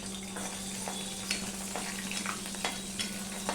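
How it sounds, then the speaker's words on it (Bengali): Nigella seeds spitting in hot oil left over from frying pabda fish, a dense steady sizzle with scattered sharp crackles and pops, close and alone with no voices. "এবার আমি অল্প একটু কালো জিরো ফোড়নে দিয়ে দিলাম"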